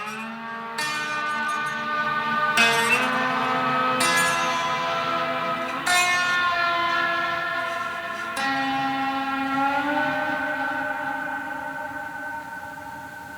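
A modular synthesizer sounds chiming, bell-like tones that strike every few seconds, each ringing out into a long filtered reverb tail that blurs into a rich, sustained wash.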